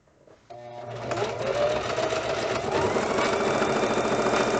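A sewing machine stitches a fabric mask, starting after a brief pause and then running in a steady, close, rapid mechanical whir that holds constant to the end.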